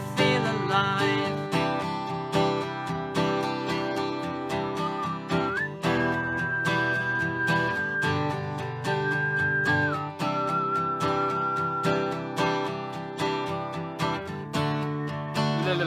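A person whistles long sustained notes over strummed acoustic guitar and rhythmic backing in a folk performance, the whistle holding steady pitches before breaking off.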